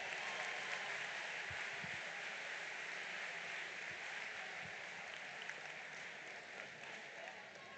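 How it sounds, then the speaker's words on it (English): An audience at a school district opening-day celebration claps in sustained applause from a sizable crowd. The clapping is steady and fairly distant, and it slowly tapers off toward the end. "Give them a round of applause."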